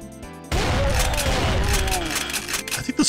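Rapid bursts from the scrap gun in Doom, a fast-firing weapon, crackle loudly and continuously over busy game effects and music, ending in a few sharp hits.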